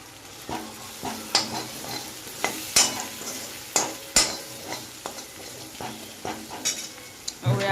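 A spoon scrapes and clinks while stirring spiced potato vada pav filling with salt, turmeric and coriander-cumin powder in a frying pan, with a soft sizzle underneath and repeated sharp taps against the pan.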